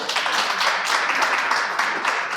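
Audience at a storytelling event claps steadily: a dense, even wash of many hands clapping together, fairly close and continuous with no talk over it.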